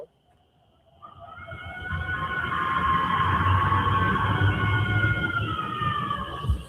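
Coyotes howling at night in Defiance, Ohio: a long, rising chorus of wavering, high-pitched howls that swells after a quiet start and holds steady, fairly distant, over low rumbling background noise.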